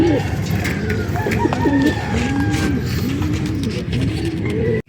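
Several pigeons coo close by, a run of repeated soft rounded calls over a low background hum, some of the birds said to have a cold.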